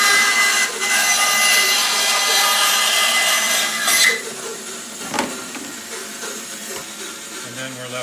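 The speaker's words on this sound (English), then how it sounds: "Now we're going to have to cut off all these flanges, and we'll do that on the band side here." A band saw cuts the trim flanges off a molded holster shell, a steady, close buzzing whine that runs through most of the stretch and eases off after about four seconds.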